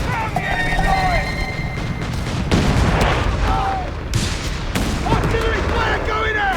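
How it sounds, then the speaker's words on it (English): Heavy artillery fire and explosions from the Company of Heroes 3 real-time strategy game, loud rolling booms and blasts layered under shouted soldier voice lines, with dense battle noise throughout. "Artillery fire going out!"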